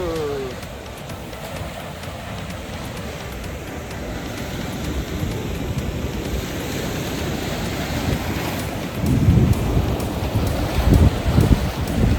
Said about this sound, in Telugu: అలా చూడండి అలలు ఎలా వస్తున్నాయో